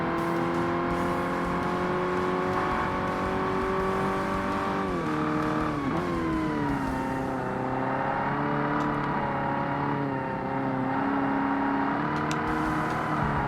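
Racing car engines in Forza Motorsport, including a Corvette, drone steadily and loud throughout, pitch sliding down and back up as gears shift, with no talk over them.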